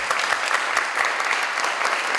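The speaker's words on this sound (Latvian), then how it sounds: "atkal iedrošinošā aplausa mums derētu" Audience applause at a project coordinators' gathering, a sustained dense patter of many hands clapping from a nearby crowd, with no voices over it.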